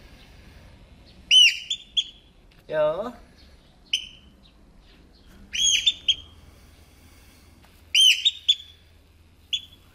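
A Eurasian oystercatcher chick gives high, thin chirps in short clustered bursts a few seconds apart, close and clear against a quiet background, while a person speaks briefly in between.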